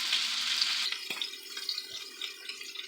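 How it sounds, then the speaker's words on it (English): Pork tenderloin browning in a pan, a quiet steady sizzle and hiss of frying with a few soft clinks and stirring sounds, nearby and with no one talking. "I'm going to brown this side, and I'll braise the other side"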